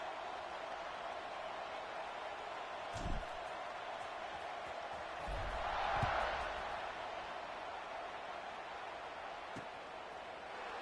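A football stadium crowd at an Indiana Hoosiers game hums as a distant, steady buzz, swelling briefly midway, with a few scattered thuds.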